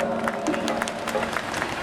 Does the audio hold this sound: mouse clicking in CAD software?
no